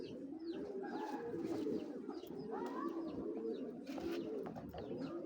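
Racing pigeons in a loft of about 175 birds coo steadily and close by, with overlapping throaty calls, occasional chirps and a faint voice in the background.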